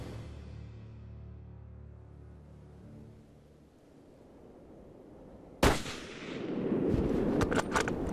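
A single sharp Winchester rifle shot fired at a grizzly bear outdoors in British Columbia, one loud crack after a quiet stretch, followed by rumbling echo and rustling movement.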